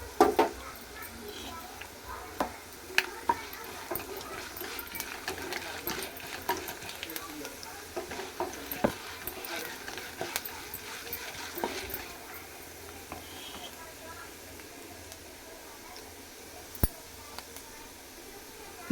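Urad dal, coriander seeds and cumin fry in a pan with a quiet, steady sizzle. Occasional sharp stirring clicks and scrapes cut through, and someone talks softly over it.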